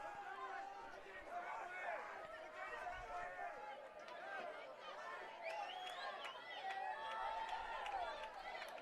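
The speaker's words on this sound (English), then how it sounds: "You can hear the crowd here." Faint, distant crowd noise at a high school boys' lacrosse game, with a student section's chatter and cheering forming a steady murmur for several seconds, with occasional whistles or shouts rising above it.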